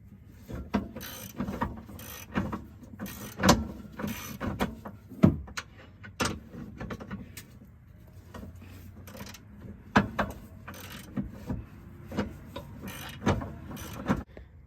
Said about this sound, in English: And we're going to start tightening these up now.